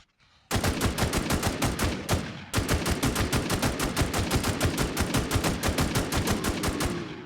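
Rapid automatic AKM rifle fire in the online survival shooter Infestation: loud, steady strings of close shots with one short pause, carrying on for several seconds.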